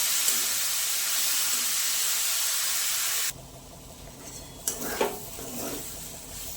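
Cauliflower filling with turmeric and cumin sizzles steadily in a pan. The loud hiss suddenly drops to a softer frying sound, with a few scraping stirs and clinks of the spatula against the pan.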